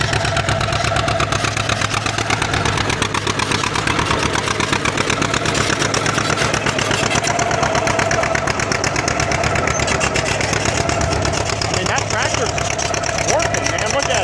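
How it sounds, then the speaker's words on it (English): A double stack style D crawler tractor runs loud and steady while plowing with five bottoms, a continuous rhythmic engine chug with no pauses. "Got a double stack style D crawler."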